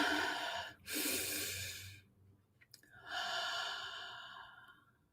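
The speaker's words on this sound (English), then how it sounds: "Take a deep breath." A person takes slow, deep breaths during a meditation, with a long inhale, a pause and another long breath, close and soft.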